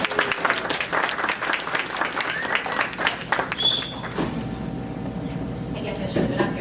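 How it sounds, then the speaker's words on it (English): Audience applause at a real estate association breakfast meeting, a dense wash of many hands clapping for several seconds that thins out toward the end, with a few voices mixed in. "everyone give a round of applause for Nicole Romero from the Termite Guy"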